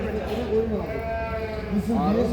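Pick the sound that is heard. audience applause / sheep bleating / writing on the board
sheep bleating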